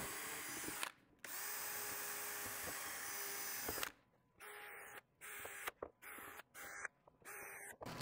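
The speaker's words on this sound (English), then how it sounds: "Pilot holes all the way through so I can countersink the bottoms." Power drill boring pilot holes straight through wood for a homemade composting toilet, a steady whirring run lasting several seconds, then a string of short bursts separated by pauses.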